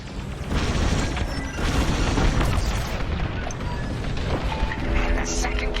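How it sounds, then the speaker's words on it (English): A capital carrier blows up in the space-combat game Star Wars Squadrons: a sustained, dense roar of booming blasts and crashing debris runs loud and continuous throughout, with faint tonal game sounds near the end. "And the second carrier goes up in flames."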